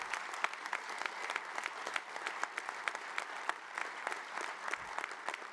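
Steady applause from an audience at a 2013 State of the City address, a dense continuous patter of many hands clapping at moderate distance with no voices over it.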